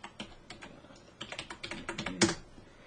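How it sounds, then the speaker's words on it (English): Keys clack on a computer keyboard as an IP address is entered for an oscilloscope network connection, a close, steady sequence of short taps that ends with one firmer keystroke. "Let's type in the IP address, which I can read right off the oscilloscope screen."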